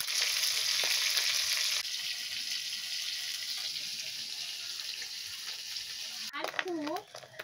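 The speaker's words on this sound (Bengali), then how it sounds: "এখানে আমি মাছগুলো ভেজে নিচ্ছিলাম।" Fish fries in hot oil in a pan, giving a steady, fairly quiet crackling sizzle throughout. The sizzle softens slightly partway through, and a brief voice is heard near the end.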